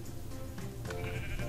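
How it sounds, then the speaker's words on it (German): Sheep bleating in the Minecraft video game, a couple of short game-sound bleats standing out over a steady background of game noise, with no talking. "Hier sind noch Schafe bei Bedarf."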